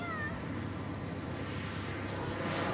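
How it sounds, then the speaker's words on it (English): A T-33 model airplane flies aerobatics at an air show, its engine a steady, droning whine held at moderate distance across the full stretch, with no voices over it. "This is the plane to be hurtling through the sky right now as Randy once again takes the T-33 into the"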